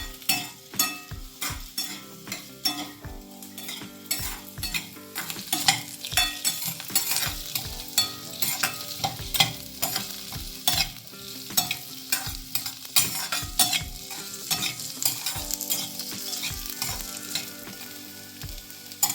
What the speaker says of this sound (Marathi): आता पाहू शकता तुम्ही की कांदा थोडा लालसर होत चालला आहे.